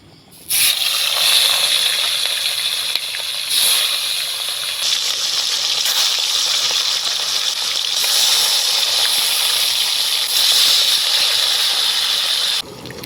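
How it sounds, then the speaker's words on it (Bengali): Fish frying in hot mustard oil in a wok gives a steady, loud hissing sizzle that holds nearly unbroken for several seconds, with small surges in intensity and no voices. "তেল গরম হয়ে গিয়েছে, 2 ভাগে মাছগুলোকে আমি ভেজে নেব।"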